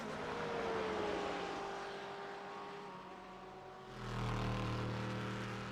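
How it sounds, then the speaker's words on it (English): BMW and Corvette GTE race cars roaring along a straight, engine notes rising and falling as they pass, then a fresh surge of engine noise near the end, with no talk. "BMW very, very quick in a straight compared to that Corvette GTE"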